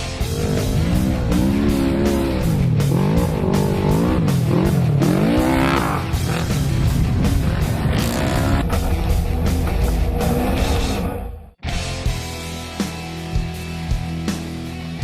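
A Polaris RZR 900 stage 2 side-by-side runs loud and close, its engine revving up and down in repeated surges for about eleven seconds, then cuts out abruptly before lower intermittent mechanical noise follows.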